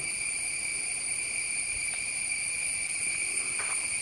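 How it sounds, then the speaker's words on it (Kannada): Crickets near a forest temple in the Western Ghats foothills keep up a continuous, high, steady ringing chorus with no voices. "ಜೀರು ಜೀರುಂಡೆಗಳ ಶಬ್ದ ಬಿಟ್ಟು ಬೇರೆ ಏನಾದರೂ ಕೇಳ್ತಾ ಇದೆಯಾ"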